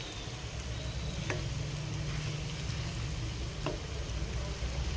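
Chicken curry with onion gravy sizzles steadily in a pan, a dense continuous hiss and crackle close by with a couple of faint clicks of stirring, no talk.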